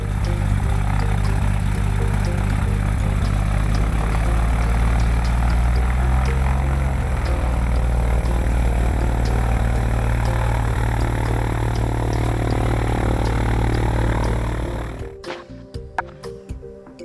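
A small airplane engine runs steadily before takeoff, a loud, close, droning hum that holds for most of the stretch and then cuts off abruptly near the end, leaving faint scattered noises.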